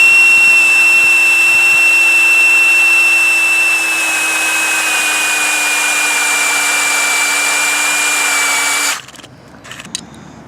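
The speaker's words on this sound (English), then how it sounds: "And so we'll drill a hole." A power drill whines steadily at a constant high pitch for several seconds while drilling a tap hole into a maple tree in below-freezing cold, then stops abruptly, leaving a few faint clicks.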